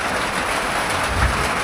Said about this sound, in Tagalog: Ayan, nalakas ng ulan.